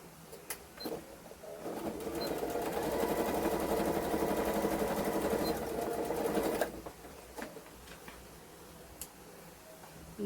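A sewing machine stitches the side seam of a cloth Chloe doll, running at a steady mechanical rattle for several seconds before stopping. Quiet ticks and faint background chirps are heard around it, and no one speaks.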